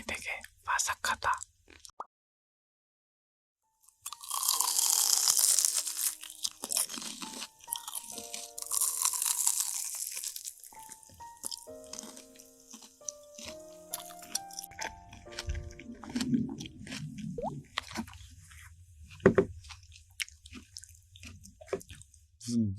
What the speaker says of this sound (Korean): 그만큼 튀김이 되게 바삭하다.